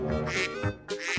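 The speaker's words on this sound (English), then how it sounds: "Duck." A duck gives two loud, nasal quacks close up with a short gap between them.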